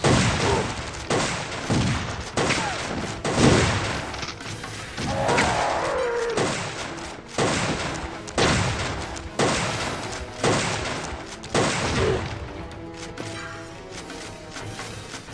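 Rapid, loud bursts of gunfire from the dinosaur-hunting video game, repeated volleys and impacts filling the stretch with little pause, a few game sounds mixed between shots.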